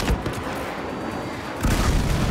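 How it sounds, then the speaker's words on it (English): Heavy booming airstrike blasts in the video game Saints Row, a dense roar of explosion noise and gunfire that drops briefly then surges again loudly. "Marshal unit, prepare for airstrike."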